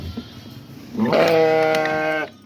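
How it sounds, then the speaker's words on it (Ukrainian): A sheep bleats once, loud and close, on a home farm where ewes and small lambs are kept. Faint background noise comes before the call, and no one talks. "Тут теж таке овечка і там маленьке ягнятко, дуже файне."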